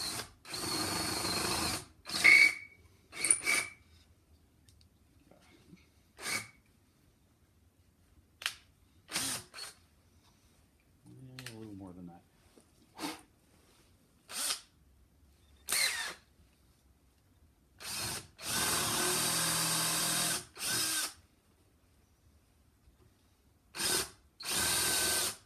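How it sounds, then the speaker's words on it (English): A handheld power drill countersinks into scrap wood in a series of short, loud bursts of whirring separated by quiet pauses, some bursts longer and steadier than others. "we're just going to use this drill and countersink it"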